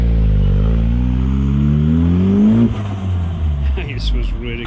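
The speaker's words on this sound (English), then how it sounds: "That bloody 4-inch exhaust is huge, but it does sounds good." A VAG 1.8 20V turbo engine swapped into a Toyota MR-S rumbles deep and loud through a 4-inch exhaust, revving up with a rising note, then dropping to a rough idle with clatter and faint voices.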